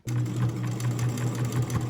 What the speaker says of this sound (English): I'm going to take it to the sewing machine and just sew right over that tab, connecting it to the exterior